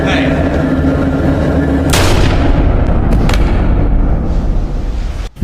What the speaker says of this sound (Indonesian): sebuah tembakan mengenainya lalu ia pun tewas seketika